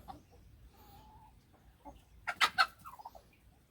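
Chickens cluck nearby in a short burst of sharp, loud calls, followed by a few softer trailing clucks over a quiet background.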